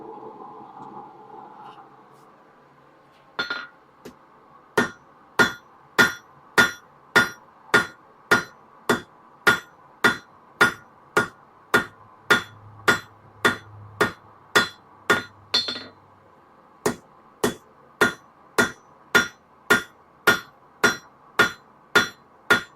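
Hammer truing the edges of a forged iron door latch at a blacksmith's anvil: a long, even series of sharp metallic strikes, about one per second, ringing clearly in a quiet workshop with a brief low hum partway through.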